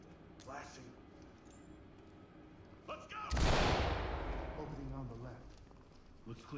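Flashbang grenades go off in a first-person tactical shooter while clearing a room, a sudden loud broadband burst that decays over a few seconds, with a voice talking before and after.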